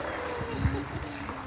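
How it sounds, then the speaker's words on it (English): Audience applause at a Peterborough Easter Seals telethon media launch for the 2023 ambassador, a steady wash of clapping and crowd noise with voices talking over it. "can we get a big round of applause for this year's 2023 Easter Seals Ambassador"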